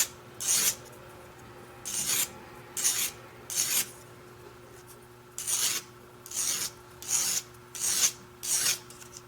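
Rough-grit sandpaper rubbing on a homemade pendant, heard as eight short, close rasping strokes with brief pauses between them and no voices.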